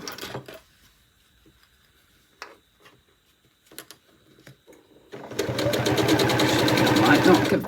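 A sewing machine stitching a fabric scrunchie runs loudly and steadily in the last few seconds, after quieter handling sounds and brief taps with no talking.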